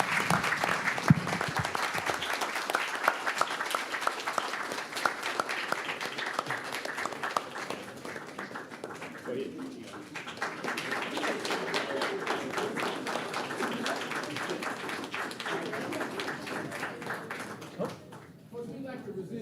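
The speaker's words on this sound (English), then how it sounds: "Let's give them a round of applause." Applause from an audience at a city commission meeting, honoring a school team: steady mid-sized clapping that runs nearly twenty seconds with a murmur of voices mixed in, easing slightly before fading near the end.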